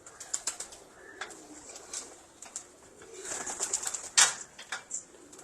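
A Jugnu or Red Bull breed pigeon coos softly at close range, with scattered chirps and a sharp rustle or flap near the end, and no talking.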